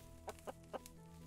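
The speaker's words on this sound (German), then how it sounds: "Da kommen die Hühner, die haben auch gepennt." Chickens waking up in the video game Clanfolk give three quick clucks, then a fainter fourth, over a quiet in-game background hum.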